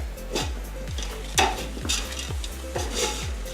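Vegan mince being stirred as it fries in a pan, with a steady sizzle beneath repeated scraping strokes of a utensil against the pan, several close stirs in a row.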